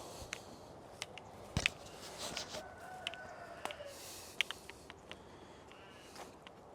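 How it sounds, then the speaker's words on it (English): Roosters crow faintly in the distance over a quiet outdoor farm background in Australia, with scattered clicks and small knocks nearby. "You can hear the roosters crowing."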